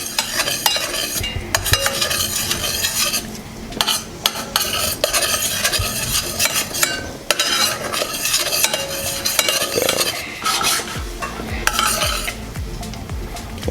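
Butter melting in a hot pan under continuous stirring, with busy scraping and clinking of the utensil against the pan and a steady sizzle throughout, close and fairly loud.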